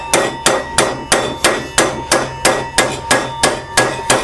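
A hammer strikes repeatedly against the action of a Remington M1903 Springfield rifle to unscrew its barrel, about a dozen sharp metallic taps in an even rhythm, loud and close with no talk.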